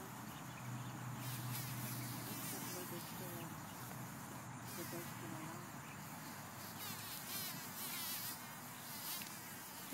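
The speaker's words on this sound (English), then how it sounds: "Hear that buzzing sound?" A close, continuous bumblebee buzz hums steadily throughout, with faint background noise and brief rustles.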